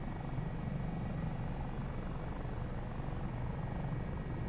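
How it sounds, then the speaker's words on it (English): Dauphin helicopter in Microsoft Flight Simulator 2024, its main rotor and turbine making a steady, even whirring drone with no break, heard alone with no talk. "When you take away torque from the main rotor, the helicopter will descend in a hover."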